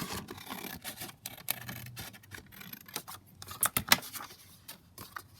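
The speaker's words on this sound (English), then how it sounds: "I'm just going to cut along at the bottom" Scissors cut along the bottom edge of craft paper for a flower folio project: a close, irregular run of crisp snips and rasping paper scrapes, with no speech.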